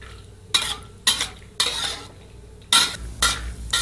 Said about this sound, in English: we're going to cook these up now just until they go a golden brown